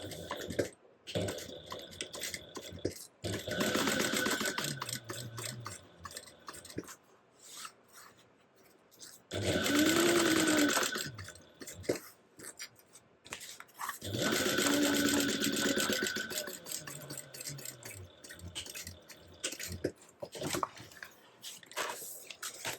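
Sewing machine stitching a welt pocket seam at a quarter inch on a garment, running in two long close bursts with quieter handling and fabric rustle between them, no talk.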